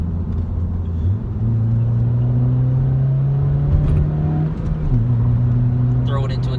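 A 9th-generation Honda Civic Si drives with a steady engine drone that rises, then drops at a shift, over a continuous road rumble from inside the cabin.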